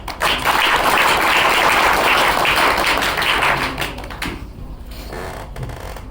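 A studio audience at a comedy show breaks into loud, dense applause that holds steady for several seconds, then thins out abruptly into scattered taps and knocks.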